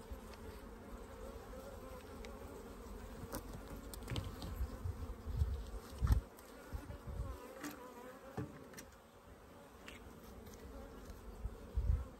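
Honeybees hum in a soft, continuous drone around an open beehive, with a few close buzzing passes and light knocks from handling the frames.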